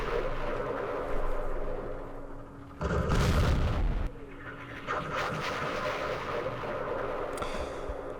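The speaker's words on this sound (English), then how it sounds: "So, we laid artillery." Artillery fire from the Vietnam War strategy game Campaign Series Vietnam: one loud, rumbling broadband blast lasting about a second, rising over a steady ambient bed of outdoor sound with faint bird-like calls.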